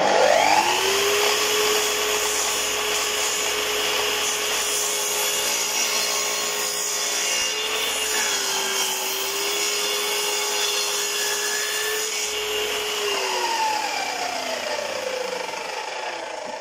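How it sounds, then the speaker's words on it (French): A saw cuts a bevel through a piece of wood with a steady, loud whine for about thirteen seconds. The pitch holds level throughout, then drops away as the cut finishes. "Le côté droit a maintenant été scié en biais."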